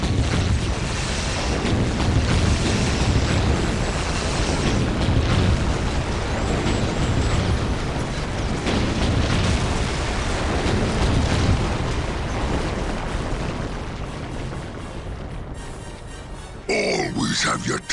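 Dense, roaring explosions and rumbling blasts fill the Warhammer 40k: Dawn of War - Soulstorm battle almost without pause, loud and sustained, with voices shouting over the din.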